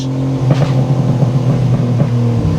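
BMW M4 Competition convertible fitted with an Akrapovic exhaust rumbles loudly at close range, its steady burble broken by several quick rev blips.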